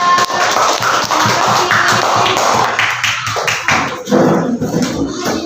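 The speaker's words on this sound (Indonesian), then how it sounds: "Tepuk tangan untuk kelompok cahaya." Students in a classroom clap for a group, a dense run of hand claps and light tapping carrying steadily throughout, close and loud with no talk over it.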